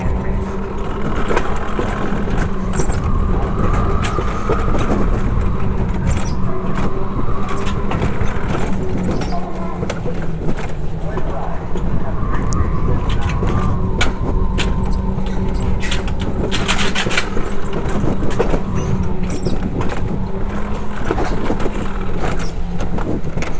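Roller coaster ride at Dalat, steady loud rumbling and rattling of the car on its track throughout, with wind buffeting and sharp clanks, no talk.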